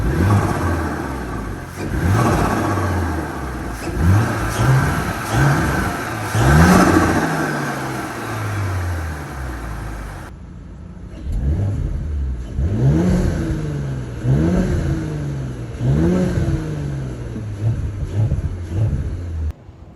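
An Audi B9 S4 fitted with an 034 P34 intake and a large conical filter is revved repeatedly, each throttle blip rising and falling in pitch with a deep rumble, heard close up.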